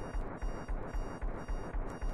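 An alarm goes off with a rapid, pulsing pattern of repeated bursts at a steady rhythm, fairly loud and uninterrupted, with no talking over it.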